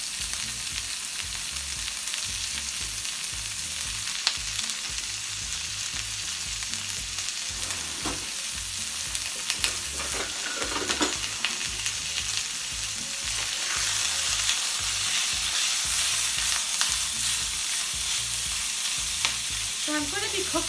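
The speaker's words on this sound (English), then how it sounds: "So I'm going to be cooking the pork until it is brown and fully cooked." Minced pork sizzles loudly in a hot frying pan, a constant crackling hiss with occasional scraping from stirring, no talking.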